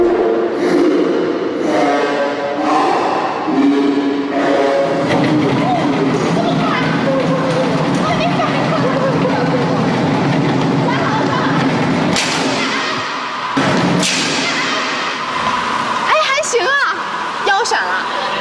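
A moving test seat runs along rails at 10 km/h, a rumbling rolling noise with rattles and a sudden jolting stop, mostly under people talking.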